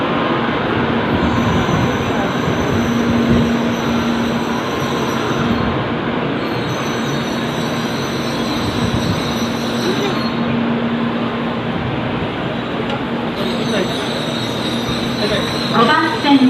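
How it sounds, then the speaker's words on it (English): Shinkansen bullet train at Nagoya station, a steady loud rumble of rail noise with high whine and wheel squeal running throughout, like a train idling or moving alongside a platform, with faint voices mixed in. "This is the train in which me and my mom is going to sit"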